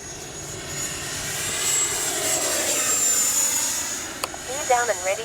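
An FMS 70mm F-18F V2 electric ducted-fan RC jet makes a low pass, its whining roar swelling as it approaches and fading as it passes, followed by short chirps near the end.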